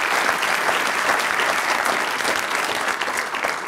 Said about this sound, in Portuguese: Uma salva de palmas para o Filipe.